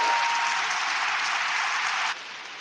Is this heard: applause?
yes